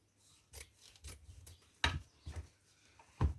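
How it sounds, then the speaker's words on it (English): Scissors trim hessian on a drop-in seat during upholstery work, giving a few quiet, close snips and rustles spaced irregularly, with short pauses between cuts. "We could trim this up as well. Give it a trim."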